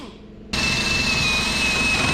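A grinder smoothing a welded seam on a 1976 GMC pickup spins up abruptly and holds a loud, steady high whine with a gritty, grinding edge, close by.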